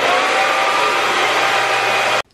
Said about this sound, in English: Yeah, I actually use a blow dryer and some hairspray,